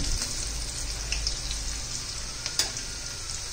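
Garlic sizzling and frying in hot oil in a pan while cooking methi bhaji with besan, a steady close crackle with faint stirring and a sharper pop near the end.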